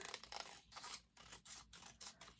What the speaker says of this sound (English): And then you're going to cut from the corner